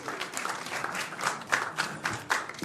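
Audience clapping at a York County, Virginia Board of Supervisors meeting, a brief burst of scattered applause from a crowd in a hall, fairly close and lively, fading at the end.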